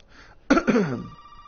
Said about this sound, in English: we're going to answer the phone.